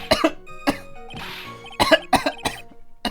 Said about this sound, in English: could that stupid cough possibly sound any phonier?